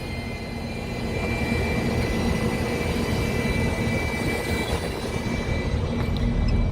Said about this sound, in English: And this is the bus coming